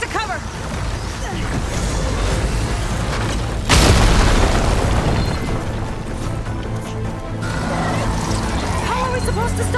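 Machine gunfire and a heavy explosion from a hostile machine in the video game Horizon Forbidden West, a loud boom bursting out midway through dense, continuous combat noise with voices talking throughout.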